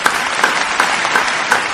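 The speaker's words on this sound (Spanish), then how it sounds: "Recibámoslo con un fuerte aplauso." Applause welcoming a guest singer on an interview show, loud and steady, with rhythmic bursts recurring about every third of a second, so it sounds like a few people clapping in unison rather than a large crowd.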